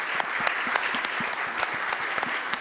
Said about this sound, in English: let's give a round of applause to our presenters for setting the stage